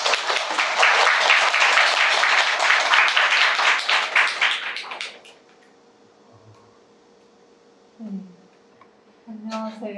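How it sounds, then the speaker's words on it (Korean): An audience at a Korean book talk in a Daejeon bookstore claps in a dense burst for about five seconds, then fades into near quiet before brief speech begins. "박수 부탁드립니다"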